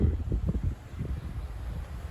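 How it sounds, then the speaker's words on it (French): A moderate south wind stirs spring trees, gusting in low rumbling pulses that rise and ease without a break; no voices. "ce nouveau petit épisode de vent de sud, restant modéré. Mais qui anime bien les arbres"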